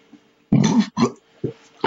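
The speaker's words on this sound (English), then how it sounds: "You got another burp coming on." A series of loud, close burps in short separate bursts, a long one followed by shorter ones, uttered alone without speech.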